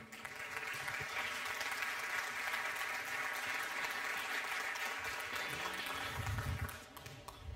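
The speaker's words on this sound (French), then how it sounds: "Je vous demande de l'applaudir." Audience applause at a regional economic conference in Lyon, a dense steady wash of many hands clapping that holds for several seconds before easing slightly near the end.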